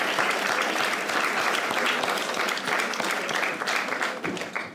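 Loud, close applause from an audience of families and friends at a school event keeps up as a thick, even wave of clapping, then tapers slightly at the end.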